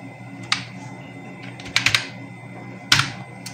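Keys tapped on a computer keyboard while a captcha is typed in, a few sharp isolated clicks and a quick cluster of strokes over a faint hum, with no talk.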